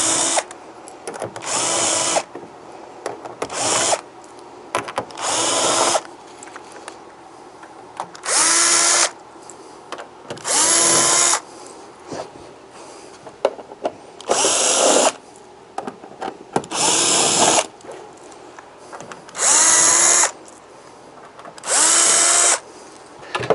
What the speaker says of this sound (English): I'm going to use a 5/16 socket driver on a drill to make this faster.